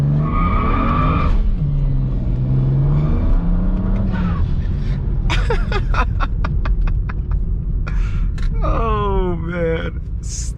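BMW 335i stage 2+ on E85 at 22 psi accelerating hard from a standstill toward 60 mph in second gear, engine note rising with tyres losing traction and squealing, heard from inside the car with voices over it.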